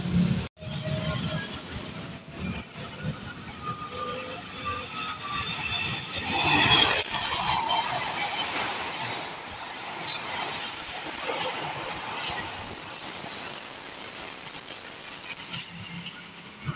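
The Singasari passenger train, with executive and premium cars, passes on an afternoon run toward Pasar Senen and Blitar, giving a long, fairly loud rumble of wheels and cars with some squeal and no talk.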